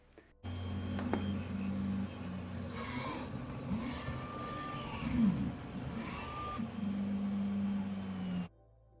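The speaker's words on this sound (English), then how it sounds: "Plastic filament is pulled from the spool into the 3D printer where it's melted." A 3D printer lays down melted plastic filament with a steady low hum and soft buzzing. Faint whirring stepper-motor tones rise and fall as the print head moves. No one speaks.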